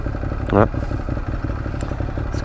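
A scooter engine hums steadily nearby with a brief rising whine, mixed with traffic clatter and faint talk in the background.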